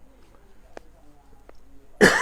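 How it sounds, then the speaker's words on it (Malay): A single harsh cough bursts out near the end, loud and close, after a quiet stretch with faint background noise. "Saya pun batuk-batuk."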